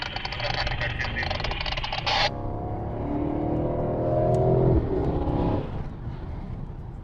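A Mercedes-AMG car passes with a loud engine roar that cuts off abruptly, then a lower drone swells and fades as it moves away, heard from close by.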